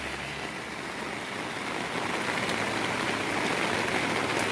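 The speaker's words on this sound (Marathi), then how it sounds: "पूर्ण घाटात आहे, पूर्ण पाऊसच चालू आहे, पाऊसच पाऊस" Heavy rain pouring in a mountain pass during a bike ride, a dense, even hiss of drops on surfaces that swells slightly louder toward the end, close and continuous with no voices.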